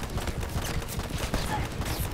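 Gunfire in the video game Left Alive rattles out as rapid, dense bursts of shots. The volley keeps going throughout with little break, loud and close, with some game noise mixed in.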